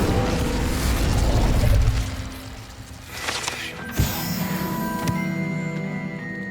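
Incendio fire spell in Hogwarts Legacy: a dense, loud roaring rush of flame for about two seconds, dropping to a quieter crackle with a sharp pop, then a ringing magical shimmer tail.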